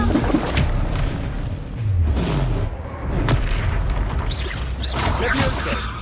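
The Expelliarmus spell is cast in a Hogwarts Legacy duel: loud, deep magical booms and whooshing bursts roll continuously under game voices and battle noise.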